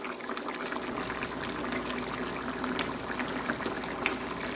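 A pot of vegan Jamaican oxtail stew, thickened with spelt flour, simmers at a gentle boil with a steady, soft bubbling and gurgling that carries evenly throughout at moderate volume.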